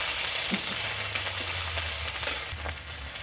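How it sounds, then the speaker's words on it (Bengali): Ginger sizzles in hot oil over already-fried five-spice, a steady close frying hiss with a few soft stirring clicks and bubbling pops throughout, no voices. "আদা এক চামচের মতন আদাটা একটু ভেজে নেবো"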